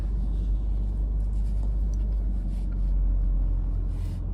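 A 2003 Toyota Land Cruiser rolls along slowly in low gear, its engine a steady, close, deep rumble with little change in pitch throughout.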